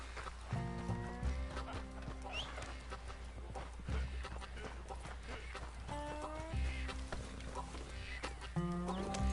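Horse hooves clip-clop steadily in Red Dead Redemption 2, with a whinny and shifting game music layered over the loud, continuous trotting.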